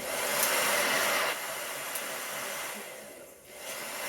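A hair dryer on its low setting blows steadily to dry stencil paint during a craft session, a close, continuous airy whir that eases slightly partway through, with no talk.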